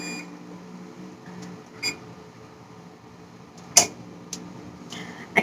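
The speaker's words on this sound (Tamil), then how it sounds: "அவன்ல வந்து சிக்கன் வச்சிருந்தேன், முடிஞ்சிருச்சு. அதனோட பீப் தான் அது" A kitchen oven signals that the chicken inside is done with a few short, sharp beeps spaced over several seconds, fairly close, against a quiet room hum.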